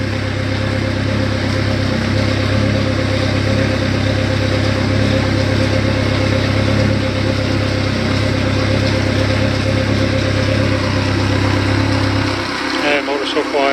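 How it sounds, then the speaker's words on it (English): A brand-new Parsun F130 outboard motor runs at a steady, even drone with a constant hum, fairly loud and close, then cuts out just before the end. "Motor's so quiet."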